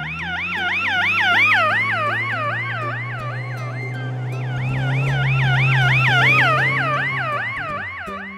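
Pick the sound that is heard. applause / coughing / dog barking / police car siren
police car siren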